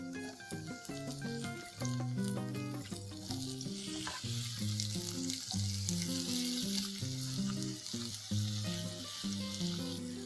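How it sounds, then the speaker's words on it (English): Tomatoes hitting a hot pan, a loud continuous sizzle heard close up beneath prominent background music. "Now I'm going to add the tomatoes."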